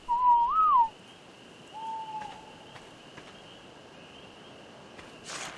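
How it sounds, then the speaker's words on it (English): Whistled commands to a creature in Ark Survival Evolved, Xbox One: a clear rising-and-falling whistle, then a shorter flat one after a pause, against a faint steady hum. "just going to whistle him passive."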